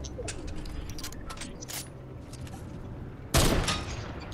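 Rapid gunfire in the battle royale game Fortnite, scattered sharp shots over steady game ambience, followed by one loud, close blast near the end.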